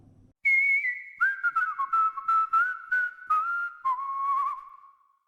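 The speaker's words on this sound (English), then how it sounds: "grab your entire cheek and then whistle" A person whistling while gripping their cheek to warble the tone, a clear sustained whistle broken into rapid pulsing flutters that step down in pitch, heard alone up close.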